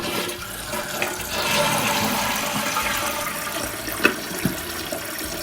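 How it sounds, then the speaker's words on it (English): A toilet flushes after a DIY repair, a steady, loud rush of swirling water that runs without a break, with a couple of small clunks near the end. "Actually, one test flush."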